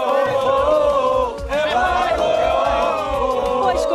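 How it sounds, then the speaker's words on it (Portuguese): A large crowd of football fans jeers and roars outside the stadium in Philadelphia ahead of a Palmeiras–Botafogo match, a loud, continuous mass of voices with rising shouts. "O pessoal tá vaiando aí, pô"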